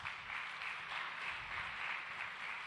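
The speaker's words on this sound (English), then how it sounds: "Can we give her another round of applause?" Faint, steady applause from an audience at a GIS Day geoinformation society event, heard from a distance as a continuous wash of clapping following a guest presentation.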